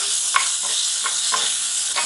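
Tomato and chilli masala for South Indian hotel-style sambar sizzles steadily in a pan, with several soft scraping stirs spaced through the hiss. No voices.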